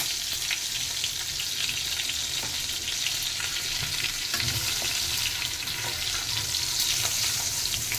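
Spices tempering in hot oil for hotel-style sambar, with asafoetida involved, give a steady loud sizzle and crackle that runs the whole time, with a few brief louder spits and no talking.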